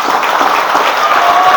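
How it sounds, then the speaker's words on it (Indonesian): Audience at a large religious haul gathering honoring NU founders claps in sustained, dense applause, steady and loud throughout with no individual voices standing out. "Beri tepuk tangan buat pesantren."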